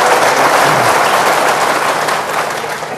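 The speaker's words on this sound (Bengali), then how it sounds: "আমরা শুরুতে একটা জোরে করতালি দিয়ে অনুষ্ঠানে শুরু করতে চাই" A studio audience at a televised Rangpur City Corporation election 2017 public forum breaks into loud, dense, continuous applause that holds steady throughout and eases slightly at the end.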